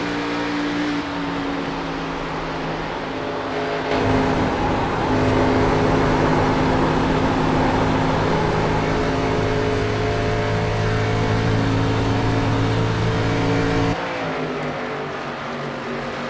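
Stock cars race at Atlanta in a Winston Cup series video game, their engines a steady, loud droning roar that swells louder midway and eases off near the end, with no talking.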